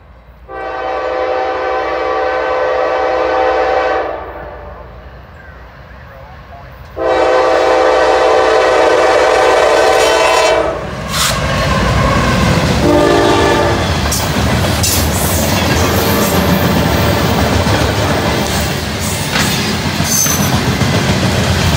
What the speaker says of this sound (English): Looks like it's the steel coil train.